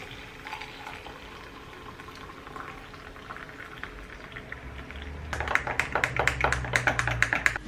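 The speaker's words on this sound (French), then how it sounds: "je vais chauffer de l'eau" Water heats in a kettle with a soft, steady hiss and rumble that swells into louder bubbling and clicking toward the end, heard up close with no talking.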